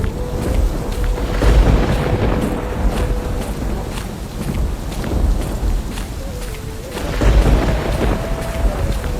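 Steady heavy rain with deep rolling thunder booming in waves, swelling loudest near the start and again toward the end, with a faint tone running underneath.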